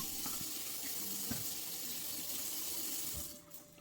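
A kitchen tap runs hot soapy water into a sink, a steady close rushing stream that tapers off near the end.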